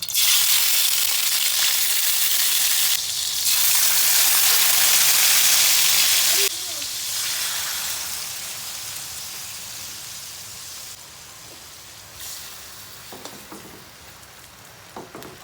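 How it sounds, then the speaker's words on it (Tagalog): Fatty pork belly frying in a little oil, a loud continuous hiss and crackle of sizzling that eases into a softer sputter, with a voice speaking over it. "So, i-fry na po natin ito."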